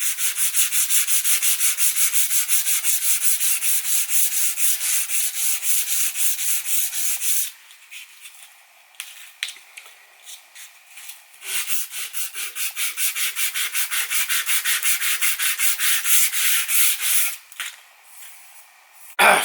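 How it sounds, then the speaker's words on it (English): Hand sanding of stainless steel with 400 grit sandpaper: fast, rhythmic back-and-forth rasping strokes close up, with a brief pause and a lighter stretch before the steady strokes resume, no talking. "Finished going over the piece with 400 grit"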